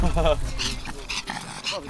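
A dog whimpers and yips in short bursts, close by, mixed with a person's voice.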